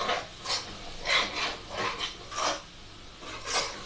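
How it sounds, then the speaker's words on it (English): Metal spoon or spatula scraping a pan while chicken kadai is stirred, a series of about eight harsh rasping strokes at a steady rhythm, close and fairly loud, with no talking. "Sorry about scraping, for people who don't like scraping"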